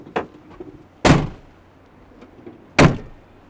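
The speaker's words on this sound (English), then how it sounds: "I'm gonna shut the doors." Doors being shut on a Winnebago Revel camper van: a lighter knock followed by two heavy, close slams about two seconds apart, with quiet in between.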